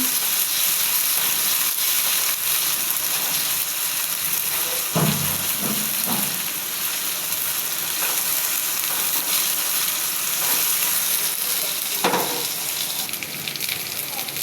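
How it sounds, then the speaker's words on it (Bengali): Steady, dense sizzling of cumin and garlic paste frying in a hot pan, loud and close throughout, with a few brief stirring scrapes and no talking. "এটাকে ভালো করে ভেজে নিব।"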